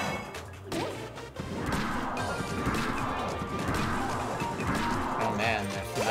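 Repeated crashing and thwacking attack impacts in the video game Miitopia, loud and busy, with whooshes between hits and voices talking over the action.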